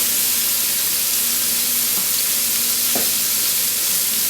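Scallops fry in a hot pan with a steady, loud, close sizzle throughout, broken by a couple of faint clicks from the pan or utensils.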